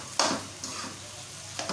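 Aloo tikki patties frying in a pan with tomatoes, onions and spices, a steady soft sizzle broken by a few brief stirring scrapes.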